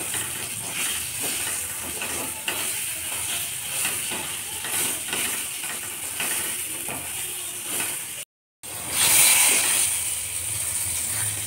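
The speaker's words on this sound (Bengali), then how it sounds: "এবার পটলগুলো ভালো করে ভেজে নিতে হবে।" Pointed gourd (potol) frying in oil in a pan, a continuous close hiss and crackle with faint scraping, broken by a brief silent cut before the sizzle resumes a little louder.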